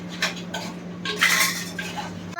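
A spoon stirs soup in a pot, making a few close metallic clinks and scrapes against the pot over a couple of seconds.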